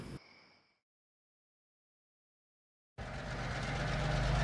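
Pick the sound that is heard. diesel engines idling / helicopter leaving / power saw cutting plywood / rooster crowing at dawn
diesel engines idling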